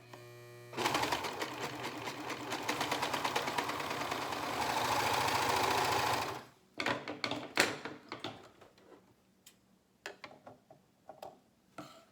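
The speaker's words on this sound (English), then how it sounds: "as I get to the end, I'm just going to serge and then merge my way off here." A serger stitching the top of a scrub cap runs at a steady close whirr for several seconds, then stops, followed by scattered clicks and light handling sounds.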